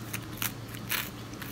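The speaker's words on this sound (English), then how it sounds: "So, points for chewing." A baby chewing food, with brief crunchy bites and soft wet mouth clicks in quick bursts, close and fairly quiet.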